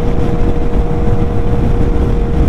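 A Yamaha Tracer 900 motorcycle at riding speed gives a loud, steady low roar of engine and rushing wind, constant and unbroken with no voices.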